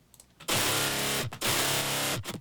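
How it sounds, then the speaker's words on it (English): Two sustained, loud synth notes from a melodic dubstep drop with a crunchy, overdriven electric-guitar-like tone, separated by a brief gap, with a short stab at the end. "It sounds almost like an electric guitar."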